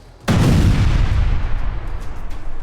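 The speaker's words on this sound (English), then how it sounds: "And as you drive by, there is an enormous explosion from the church." A huge explosion erupts from a church in a horror audio drama, a sudden loud blast followed by a long rumbling roar and debris that slowly fades, heard alone with no voices.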